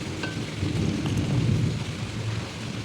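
Heavy rain pours steadily outside with a low, rolling rumble of thunder underneath, a dense continuous wash of sound with no voices.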